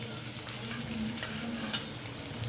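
Onions and curry leaves fry in a pan with a steady, close sizzle, broken by light stirring scrapes, with no voices over it.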